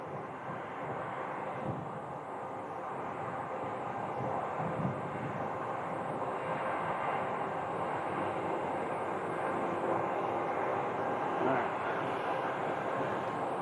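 A jet airliner arriving at Phoenix Sky Harbor from San Antonio produces a continuous, moderately loud engine rumble that swells slightly toward the end, with faint background murmur.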